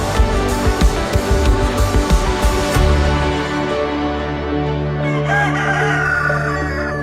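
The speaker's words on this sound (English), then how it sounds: "I just heard the rooster." A rooster crows loudly and nearby in a long drawn-out call, with a few clucks and a low engine-like rumble in the background.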